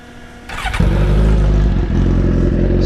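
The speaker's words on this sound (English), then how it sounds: "It kind of sounds like shit, or most would argue that it sounds like a true sports bike." A Suzuki GSX-R 1000 sport motorcycle with no exhaust can fitted cranks and fires up, settling into a loud, raw, close-up rumbling idle.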